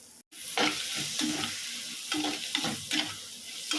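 Chopped tomatoes tipped into onions sautéing in a pan, then stirred: a brief gap before a loud burst of sizzling, followed by repeated scraping strokes of a spoon over steady frying hiss, no speech.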